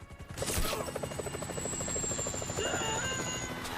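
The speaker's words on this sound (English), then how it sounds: "Bring down the chopper, Trev." Helicopter in the Grand Theft Auto V video game, heard as a loud, steady rotor chop with a rapid rhythmic beat and a high turbine whine running continuously, close and without talk.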